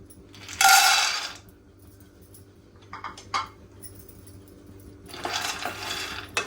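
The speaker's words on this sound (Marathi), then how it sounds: "आता एक कढई गरम करायला ठेवलेली आहे आपण शेंगदाणे चांगले भाजून घेऊया" Peanuts being roasted in a kadai rattle and clatter against the metal in two loud bursts, with a few sharp taps between them.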